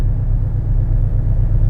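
A low, steady boxer engine rumble from a Porsche 718 Cayman GTS throbs continuously, a deep pulsing drone like a car idling close by, with no voices.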